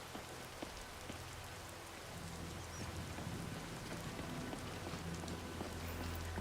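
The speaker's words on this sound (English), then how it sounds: "So, still raining." Steady rain falls in the Skyrim VR video game, a dense hiss of drops on surfaces with a low rumbling undertone, continuous and moderately quiet throughout.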